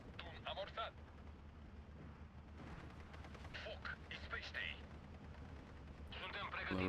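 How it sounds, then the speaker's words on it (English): Mortars lay down defensive fire in a World War II strategy video game battle between Romania and Hungary. Several faint, muffled booms and crackles come in bursts under a low rumbling battlefield bed. "Defensive fire with the mortars."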